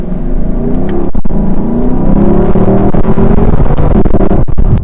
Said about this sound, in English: listen to those downshifts, how keen those downshifts are and how they rev match